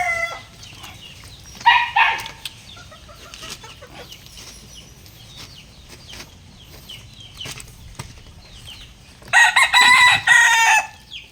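Backyard chickens and chicks cluck at feeding time, with a burst of calls near the start and a louder, busier stretch of clucking near the end, separated by quieter pecking and low background noise.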